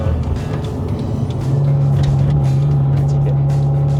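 A Mercedes-Benz W212 E250 AMG Line downshifts while driving toward the foot of a hill in Malaysia, its engine note jumping to a higher, steady drone midway, heard from inside the cabin over road noise.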